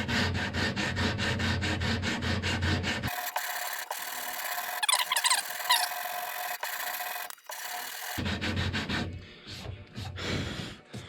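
Sanding saw marks out of a wooden longbow: steady rubbing and rasping strokes on the wood, close and loud, with a short quieter stretch in the middle before the scraping resumes.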